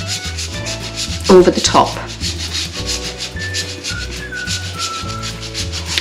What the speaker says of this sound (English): So I've got some dark chocolate, and we're just going to grate it